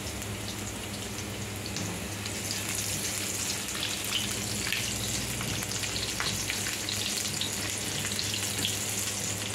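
Garlic and ginger fry in a pan for a beef pinapaitan, a steady close sizzle with crackling pops and light stirring scrapes, continuous with no talk.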